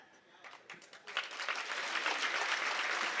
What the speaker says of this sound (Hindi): ताली यहाँ नहीं बजानी थी